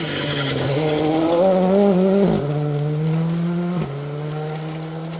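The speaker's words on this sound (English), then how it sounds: "Anticipation builds as the engine notes rise and you can hear them coming into view." A loud rally car engine screams close by on a rally stage, its pitch climbing through two quick gear changes as it approaches.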